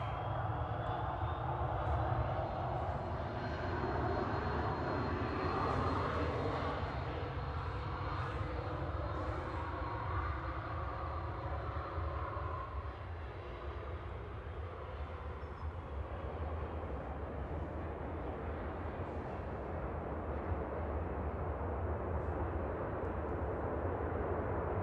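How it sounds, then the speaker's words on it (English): Airliner reverse thrust on landing at Manchester Airport, a distant, faint broadband roar that swells and slowly fades over about twenty-five seconds, heard outdoors with no talking. "with the wind direction we shouldn't really be able to hear the reverse thrust"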